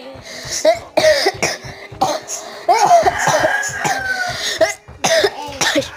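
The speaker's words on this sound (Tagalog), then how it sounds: "May ubo ko eh" Several harsh, close coughs burst out in quick clusters, repeated throughout with short gaps between them.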